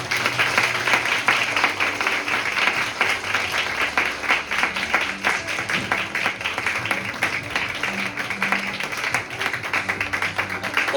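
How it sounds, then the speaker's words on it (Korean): An audience at a student Model UN opening ceremony claps for the conference chairs, a loud, continuous crowd applause with crisp individual claps and a low hum beneath. "나오실 때 큰 박수 부탁드립니다"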